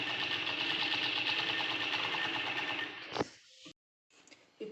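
A sewing machine stitches a long frock in one steady, fast, even mechanical whir for about three seconds, then stops abruptly, leaving brief handling noises and a short silence.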